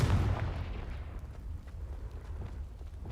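A Confringo fire spell in Hogwarts Legacy explodes with a heavy booming blast that rumbles and slowly fades over a few seconds.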